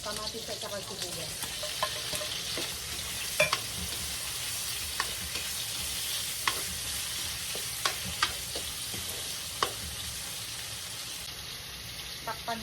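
Tomatoes and onions frying in a pot for salmon-head sinigang, giving a steady close sizzle under repeated clinks and scrapes of a stirring utensil, with no talk.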